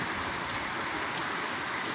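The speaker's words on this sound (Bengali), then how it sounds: "খুব জোরে বৃষ্টি হচ্ছে এখন" Heavy rain pours down in a steady, dense hiss that fills the whole span evenly, with no voices or breaks.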